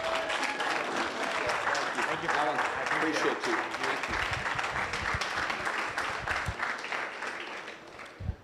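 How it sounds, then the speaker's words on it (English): Audience applause fills a meeting room, sustained clapping throughout that tapers near the end, with people speaking over it. "please give a round of applause"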